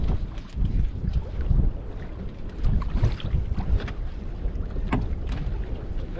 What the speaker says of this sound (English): that wind is a little bit of a nuisance